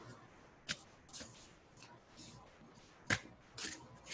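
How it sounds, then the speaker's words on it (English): A deck of oracle cards, a Starseed Oracle deck, is shuffled close by, giving quiet papery riffles and a few sharper snaps at irregular intervals against a soft hiss. "Just shuffling cards."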